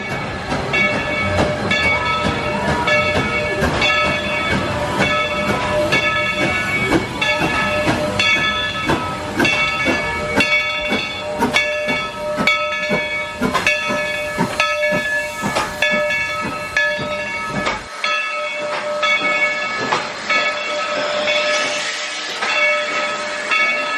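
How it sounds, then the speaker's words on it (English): An amusement park train at Dollywood rumbles past nearby with a steady hiss and clatter, loud and continuous, easing off toward the end. "Here comes the train."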